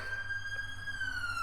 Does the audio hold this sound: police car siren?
yes